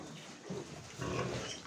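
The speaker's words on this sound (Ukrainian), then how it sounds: "Хороші такі свинки." Large White Yorkshire pigs grunt softly in a pen, giving low, faint snuffling grunts in a couple of short bursts over a quiet barn background.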